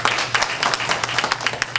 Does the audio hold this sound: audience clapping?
yes